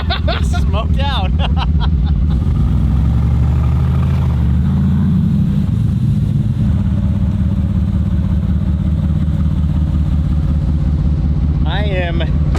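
A 1200hp AMG build's engine idles loud and close while warming up, a deep, steady rumble that never lets up and swells slightly midway, with someone talking briefly over it at the start and near the end.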